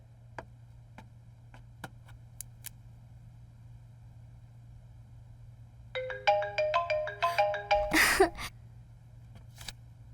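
A mobile phone ringtone in a Hindi-dubbed South Indian action movie, a melodic electronic tone pattern repeating for a couple of seconds, following faint clicks over a low steady hum, with no talk.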